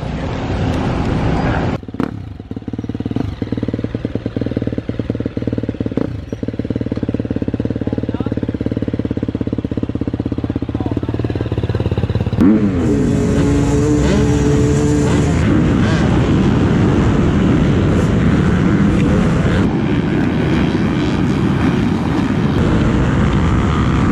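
Motocross dirt bike engines revving during practice at Loretta Lynn's MX. The engines drone loudly and steadily throughout, with a rising, whining pass partway through as bikes head out onto the track.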